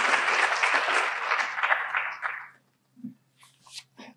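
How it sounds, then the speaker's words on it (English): Audience applause for a speaker at a college food security summit, a dense burst of clapping that fades out after about two and a half seconds, followed by a few faint scattered sounds. "Let's give a round of applause for Mr."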